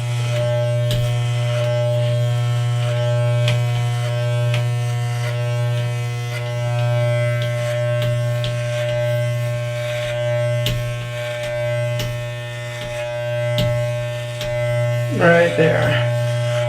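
Electric hair clippers buzz continuously and close up while fading hair in a home haircut, with a steady drone, small clicks and a short spoken remark near the end.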